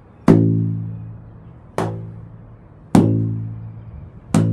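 Four separate taps strike a long, wide pipe at a steady pace, close by and fairly loud. Each sharp knock rings on in a low, humming tone that fades before the next hit.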